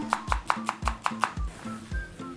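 A knife chops onion and green onion on a cutting board, about eight crisp, evenly spaced knocks that slow into a few softer cuts, close and alone.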